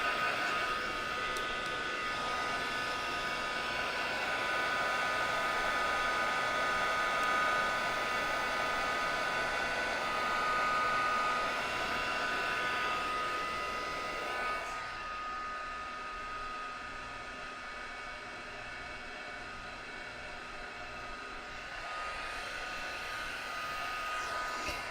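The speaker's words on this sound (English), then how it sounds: "So I'm putting the heat gun off to the side so that I can keep my digits." A heat gun drying an art journal page blows with a steady, close, whooshing hiss that quiets partway through and then continues at a lower level.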